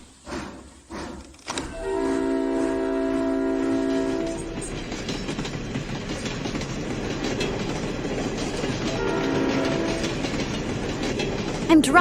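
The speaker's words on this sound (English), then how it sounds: "I'm driving a train." A steam train pulls away with a long, steady horn or whistle blast over the rising rumble and clatter of the wagons. A second whistle sounds later as the loud, continuous rolling noise builds.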